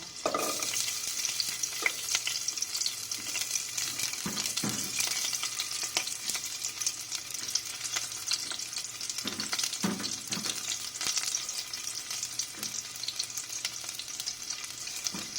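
Garlic sizzles steadily in a hot pan of oil, a dense crackling fry that runs without a break, with occasional soft stirring scrapes breaking through.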